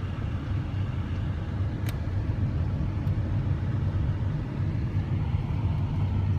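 Steady road traffic from many cars in a busy residential community, a constant low rumble of passing vehicles at moderate distance with no voices.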